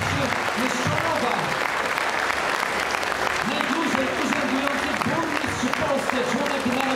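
Loud, sustained applause from a large crowd at a Polish political rally as a candidate is introduced, steady clapping filling the whole stretch with some voices mixed in.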